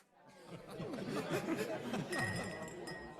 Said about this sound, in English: Dignified conversation and the clinking of glasses fill the house.